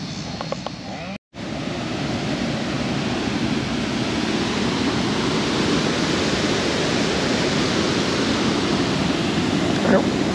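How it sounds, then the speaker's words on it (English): Waterfall in Tunica, Mississippi, heard as a steady broadband rush of falling water, loud and continuous, interrupted by a brief cut near the start. "We'll go down here and look at the waterfall."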